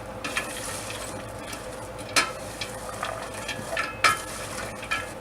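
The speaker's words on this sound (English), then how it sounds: "Get my handy dandy spoon. Give this a little bit of a stir." Spoon stirring onions, celery and carrots in a pot for farmer's soup, with a steady sizzle and scraping underneath and a few sharp clinks against the pot.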